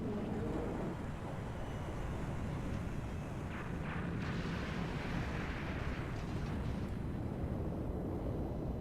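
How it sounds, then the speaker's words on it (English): Massive nuclear explosion in the G.I. Joe arcade game, erupting in a rainforest as a deep, continuous roaring rumble like surging wind and surf that holds steady, with no voices. "evidently the missile ship was nuclear armed as it caused a explosion in the middle of the rainforest"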